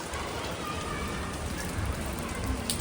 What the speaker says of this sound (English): it started raining in the desert, and the rain was pretty severe